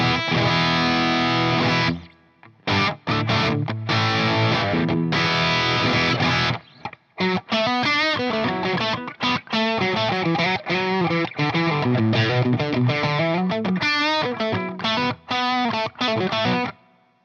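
Distorted electric guitar played through a Friedman PT20 amplifier, a series of crunchy chords and single-note phrases with short pauses between bursts, loud and up front with no talking.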